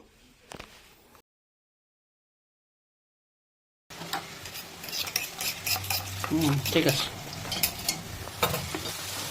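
A brief spoken word, a stretch of silence, then a spatula stirring and scraping onions in a pan over a light, steady sizzle of frying.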